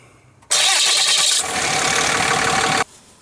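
A starter cranks a vehicle engine with a loud, harsh whir. After about a second it catches and runs at a steady, strong idle that cuts off abruptly a few seconds later.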